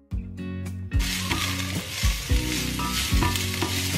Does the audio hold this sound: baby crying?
no